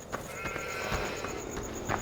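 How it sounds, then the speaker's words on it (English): Sheep bleat in the farming video game Farming Simulator 15. Several short bleats sound over a steady farmyard ambience, with no talk. "Here's some sheep."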